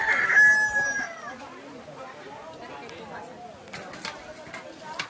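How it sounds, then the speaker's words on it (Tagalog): A rooster crows loudly at the start in Hanginan, Southern Leyte, its drawn-out call fading as people chatter and talk in the background. "Ay, manok."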